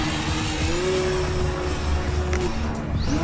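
An E-flite Ultra Stick 1.1m RC plane with its electric motor near full throttle while spinning down toward the ground, a steady high-pitched whine over outdoor wind noise with a brief voice faintly underneath.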